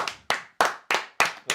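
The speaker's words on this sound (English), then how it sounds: "What are you clapping for?" Hands clap six times in a slow, even rhythm, each sharp slap close and loud, with quiet gaps between and no talk.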